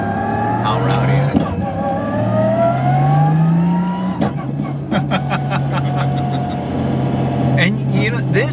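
A street-driven Lexus IS300 with a swapped 1JZ engine and sequential gearbox revs hard, rising and falling in loud throaty surges with sharp shift cracks and pops, heard up close from inside the car; no talk.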